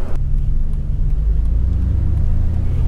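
Nissan Skyline GT-R without a catalytic converter, its engine rumbling deep and close with a loud crack at the very start, then an uneven burbling idle with faint intermittent pops.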